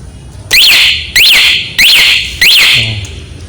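Remote alarm on a 2021 Yamaha NMAX motorcycle set off by shaking: four loud, close electronic siren bursts, each a rapid rising-falling sweep, repeating at an even rhythm of about one per second.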